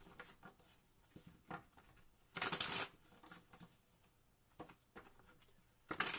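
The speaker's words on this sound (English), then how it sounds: "I'm going to just give another little shuffle here for Sagittarius." Tarot cards being shuffled in soft, quick riffling bursts, with one louder, longer riffle in the middle and another at the end, close and crisp over a quiet background.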